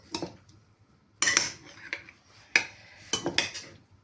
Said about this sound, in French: On prend des couverts à salade.